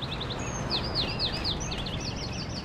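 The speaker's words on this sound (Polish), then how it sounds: "Ptaszki śpiewają." Birds sing outdoors in Bus Simulator 21, a series of quick high chirps and whistled downward notes repeating over a constant ambient hiss.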